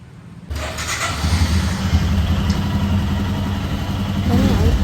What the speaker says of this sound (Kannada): ಗಾಡಿ ಕೂಡ ಸ್ಟಾರ್ಟ್ ಮಾಡಿದ್ರು